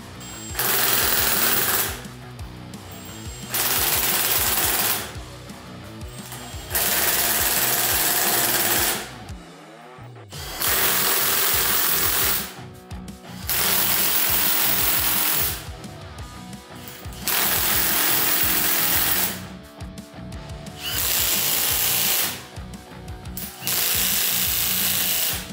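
A Milwaukee M18 FUEL 1/2-inch cordless impact wrench runs in eight repeated bursts of rapid hammering rattle, each lasting a couple of seconds and separated by short pauses, close up and fairly loud.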